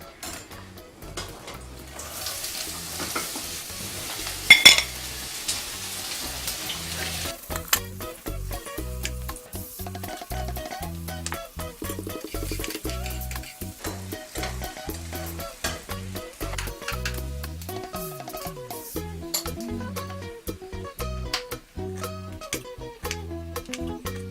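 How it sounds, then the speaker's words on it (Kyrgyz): Onion frying in heated oil while being stirred in a pan: a quiet, continuous sizzle with frequent clinks and scrapes of a utensil against the pan, steady throughout with no talking. "Кызытылган майга эң алгач пиязды салып кооруйбуз."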